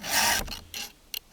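A file sharpening a ripping chain on a 60cc chainsaw rasps in one long, loud stroke followed by a few shorter, fainter scrapes, close up and with no voices.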